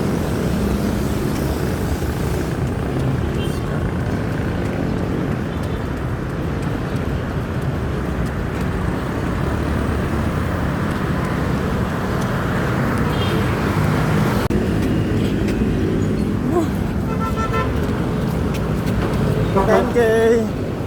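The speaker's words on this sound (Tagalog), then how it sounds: "Traffic." Road traffic noise comes through heavily on the way into Pateros, a constant loud rumble of engines and passing vehicles with a few bumps and rattles, and a person talks over it.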